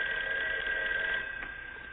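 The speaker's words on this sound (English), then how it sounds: "Hey, that's your phone, Uncle Bill." A telephone bell rings in a home, one bright sustained electronic ring that cuts off and fades over about two seconds.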